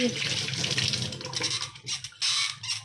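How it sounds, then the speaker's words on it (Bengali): A kitchen tap that has not been fully shut runs in a home, a fluctuating splashing hiss that surges and drops in bursts, with a voice faintly in the background. "জল পড়ে যাচ্ছে।"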